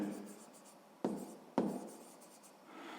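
A pen writing labels on a pie chart for a sixth-grade math exercise: faint, quiet scratching on paper with two distinct firmer strokes, close up with no talking.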